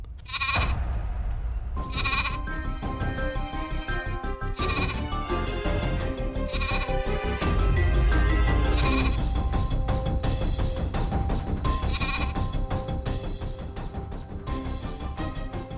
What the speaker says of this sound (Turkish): Kim soktu bu keçiyi buraya?